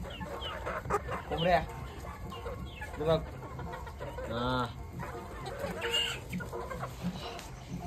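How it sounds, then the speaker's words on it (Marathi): Hens cluck repeatedly around a Marathi-speaking farmyard, a couple of loud bursts rising close by among softer background fowl calls, with brief talk in between. "कोंबड्या"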